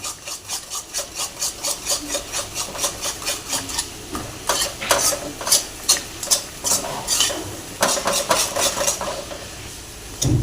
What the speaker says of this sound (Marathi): मसाला छान असा एकसारखा एकाच डायरेक्शन मध्ये चांगला फेटून घ्यायचा आहे।